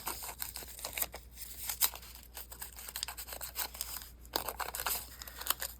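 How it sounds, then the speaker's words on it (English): Paper flower petals being curled with scissors, producing soft crinkling and scraping strokes in an irregular rhythm, close and fairly quiet with no talk. "you could try curling them with scissors"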